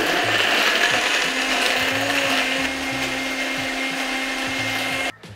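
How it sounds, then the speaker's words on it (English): A countertop blender whirs steadily at close range, its motor holding a constant drone with a rhythmic churning beneath, before cutting off abruptly near the end. "Get that on the blender."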